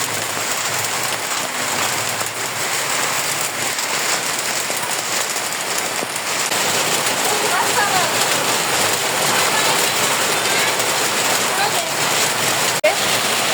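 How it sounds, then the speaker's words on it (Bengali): Steady rain falls outdoors in a continuous even hiss of drops on surfaces, lasting throughout while palm-cake batter is prepared nearby, with a faint sharp knock near the end. "আর এদিকে বৃষ্টি চলে আসছে,"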